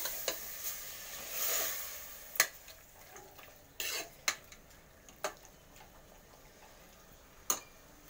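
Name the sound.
stirring and mixing mutton curry together in a pot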